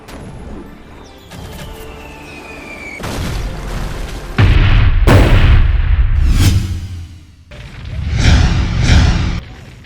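Siege weapons such as catapults and ballistas in Overlord 2 fire and strike in a series of loud, heavy crashing booms, several impacts in succession with rumbling tails, alongside a rising whistle early on.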